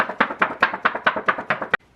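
Thick, stiff watercolor paper gets flexed or tapped in about nine even, crisp beats, close and fairly loud, before falling quiet, with no talking.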